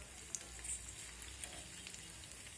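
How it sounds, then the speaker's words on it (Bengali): Cabbage and egg pakoras frying in oil, a faint, steady hiss of sizzling with light crackles and a few tiny pops, quiet and close. "এবার এই মিশ্রণ থেকে অল্প অল্প করে নিয়ে আমি পকোড়া শেপে তেলের মধ্যে দিয়ে দেব।"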